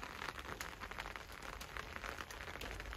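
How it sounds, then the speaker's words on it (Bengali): Steady rain patters on a surface, a dense, even hiss of drops with no voices, continuing throughout. "সুন্দর একটা বৃষ্টির নয়েজ হচ্ছে।"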